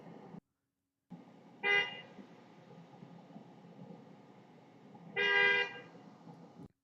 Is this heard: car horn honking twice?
yes